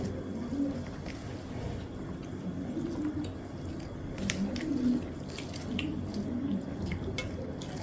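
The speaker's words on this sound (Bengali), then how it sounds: "দেখো কি সুন্দর পায়রা দেখেছো এটা আমার পোষা পায়রা" Pet pigeons coo softly nearby, low rolling calls repeating over a quiet room hum, with no one talking.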